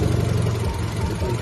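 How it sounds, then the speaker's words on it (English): A car engine runs with an intermittent misfire, triggered by a signal dropout from disturbed wiring near the engine ECU. A steady low rumble carries uneven stumbling pulses throughout, fairly close. "you can hear the misfire comes in"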